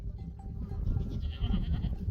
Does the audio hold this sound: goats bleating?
yes